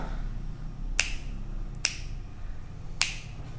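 Three crisp finger snaps ring out close by, spaced unevenly over a few seconds against a quiet low hum.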